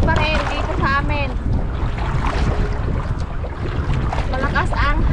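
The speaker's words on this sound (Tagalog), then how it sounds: "Malakas ang hangin." Strong wind gusts across a small fishing boat at sea before dawn, a steady roar of buffeting and spray with water sloshing, while people talk over it.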